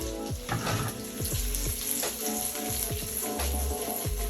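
Asparagus sizzles steadily in a hot pan with a bright, continuous hiss and a few clattering bumps as it is tossed in, close and fairly quiet with no talking.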